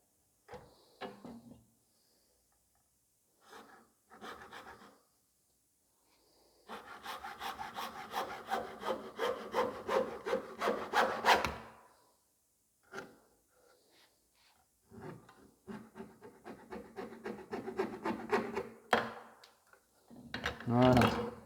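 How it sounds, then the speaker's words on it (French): A hand saw cutting through a steel tube for a V-shaped pipe joint, heard as close, rhythmic rasping strokes in two long bursts with short knocks and pauses between them, a few faint spoken words mixed in. "on vient de réaliser la découpe de notre tube numéro 2"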